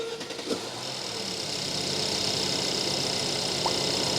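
A Mercedes-Benz car engine, checked in winter for an engine warning light, cranks over and settles into a steady, close, continuous idle that holds loud and even to the end, with no voices.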